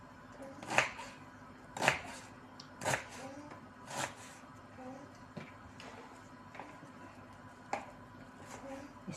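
Boiled meat being cut into cubes on a board, a series of sharp knife chops coming at irregular intervals, fairly close but soft, with faint background sounds between strikes.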